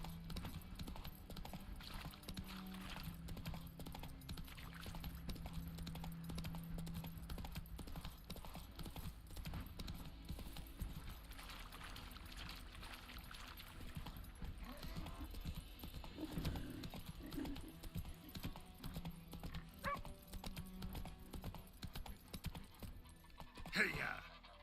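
The horse Roach walks in The Witcher 3, her hooves giving a steady clip-clop that runs without a break through the whole stretch, with faint clatter and background game sounds behind.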